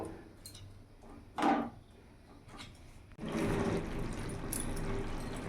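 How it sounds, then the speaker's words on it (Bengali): A pot of soybean curry with potatoes comes to a steady, hissing boil with dense bubbling after a few light clicks and a knock against the pot. "এবার কিছুক্ষণ ফুটিয়ে নেব"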